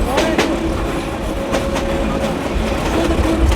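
A local passenger train on the Narayanganj to Dhaka line running loud and close, a constant heavy rumble of carriages with rhythmic wheel clicks and a thin metallic whine, a voice briefly audible beneath it.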